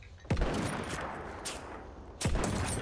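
Two sharp, loud sniper rifle shots ring out in Battlefield 1, the second about two seconds after the first, each followed by a rolling echo over steady battlefield background noise.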